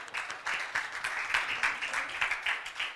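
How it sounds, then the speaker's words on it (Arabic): Audience clapping at a motivational talk, brisk and fairly close, with a rhythmic pulse of hand claps beating steadily in unison for the whole stretch, with no voices over it. "بعض الاخوه الحين يصفقوا تصفيق نكته"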